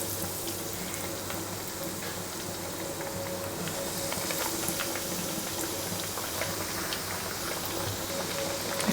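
Chicken fillet cutlets fry in hot oil, a steady, dense bubbling sizzle that runs throughout at moderate level with faint kitchen background hum and no talk.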